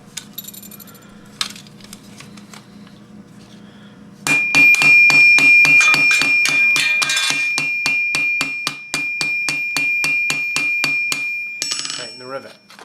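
Hammer strikes on a rivet in a steel mitten gauntlet circa 1450 style, a slow few taps then a long fast run of bright ringing metallic blows, close and loud.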